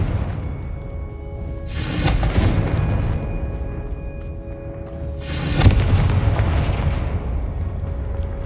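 Two booming Confringo fire spell blasts go off in Hogwarts Legacy, several seconds apart, each a loud burst fading into a long rumbling tail over steady game ambience.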